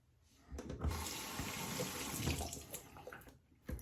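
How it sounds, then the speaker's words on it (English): Cold water runs from a tap to rinse a razor blade during a wet shave with an adjustable gold Schick injector razor. A steady, moderately quiet splashing flow starts after a brief pause and continues alone for a few seconds. "So cold water to rinse my razor blade."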